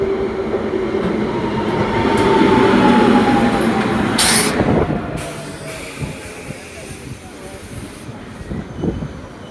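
A train rumbles through a railway station, its heavy rolling drone swelling and then easing, with clattering wheel knocks and a sharp hiss of air along the way, and faint voices beneath.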